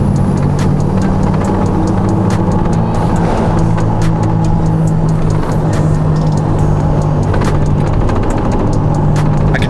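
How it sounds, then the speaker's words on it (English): Steady loud road roar of a V8 Ram pickup truck's tires humming on pavement at about 25 mph, with a low engine drone underneath and no talking. "I could definitely hear the tires, even going like 25, you definitely hear the tires."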